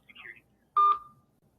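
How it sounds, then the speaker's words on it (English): Electronic telephone tone picked up through a participant's microphone on an online class call: a short burst of warbling chirps, then a single louder, steady beep that fades out, with faint murmur before it. "check your phone's ringing"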